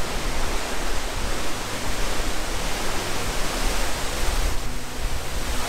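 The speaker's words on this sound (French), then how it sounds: "Il y a des cascades." A large waterfall tumbling from a height somewhere in the UK countryside makes a dense, steady roar of rushing water, loud and unbroken, with no voices over it.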